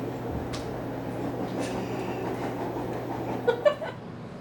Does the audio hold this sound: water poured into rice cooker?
no